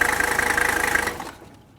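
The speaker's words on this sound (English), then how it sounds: "Now we're going to let it just idle a little bit here" A Mercedes W126 300SD diesel engine idles with a steady, clattering knock, then abruptly dies away into near silence.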